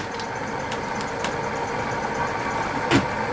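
A wood lathe spins a wobbly heart pine vase blank at 500 RPM, a steady, continuous motor hum with faint rhythmic rumble, broken by a few brief ticks and one short knock near the end.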